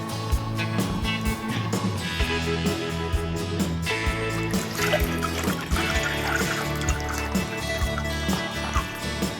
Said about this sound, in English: First, we need to pour 1 liter of water.